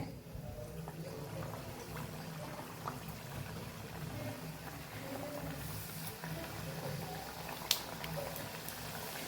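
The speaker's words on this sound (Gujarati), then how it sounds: "જેટલી એમાં પૂરી આવશે એ પ્રમાણે આપણે પૂરીને તળી લેવાની છે" A steady, soft sizzle and bubbling of pooris frying in hot oil runs throughout, fairly quiet, with occasional small pops.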